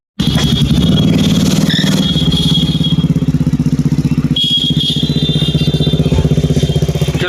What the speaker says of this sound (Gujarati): અત્યારે એક્ઝોસ્ટરનો અવાજ વધારે